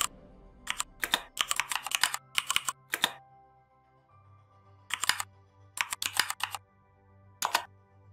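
Quick bursts of keystrokes on a computer keyboard, typed in short clusters separated by pauses, close and crisp over a faint low hum, no voices.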